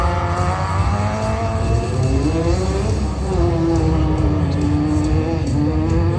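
A Škoda-class S1600 rallycross car races at Sedlčany, running properly again after a cracked half-shaft. Its engine screams loud and steady, with rising and falling revs and a brief drop in the middle as it shifts.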